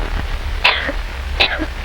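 Two short, harsh coughs about a second apart, close by, over a steady low background hum, from a 1948 Filipino film.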